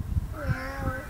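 A voice imitates a cat's meow with a drawn-out, wavering call, sung by a speaker naming animal sounds one after another.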